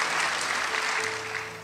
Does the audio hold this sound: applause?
yes